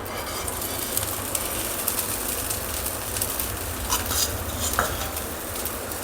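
A cabbage paratha roasts on a pan with ghee drizzled around its edges, giving a continuous, close, fairly loud frying hiss with a few faint scrapes.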